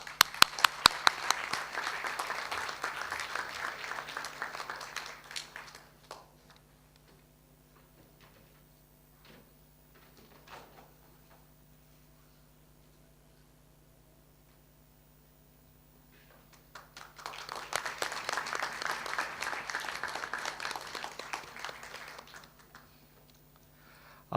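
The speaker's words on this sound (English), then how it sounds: "A big round of applause for all our award winners." Two bursts of enthusiastic audience applause at a graduation ceremony, one at the start and another later, with a quiet stretch of faint noises between them.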